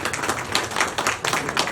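Audience at a residents' public redevelopment briefing in Gwangju clapping, a brief burst of scattered hand claps from a small crowd, moderately loud.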